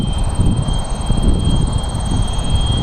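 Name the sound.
RC model MiG-15 jet flying at full throttle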